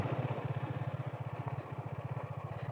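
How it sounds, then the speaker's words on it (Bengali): A motorcycle engine idles quietly, parked on a rough road on the way to Rijhang waterfall in Khagrachari, giving a steady, fast low putter of evenly spaced pulses and nothing else. "বাইক এখানে রেখে দিই"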